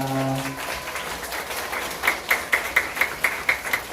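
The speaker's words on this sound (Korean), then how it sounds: "우리 만나서 반가워 큰 박수로 환영해 주겠습니다" Applause from an elementary Sunday school congregation welcoming children, a brief burst of claps that builds into a rhythmic series of sharp, loud claps, like steady clapping in unison.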